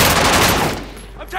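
Automatic gunfire in Call of Duty Modern Warfare, a loud dense burst that fades within about a second.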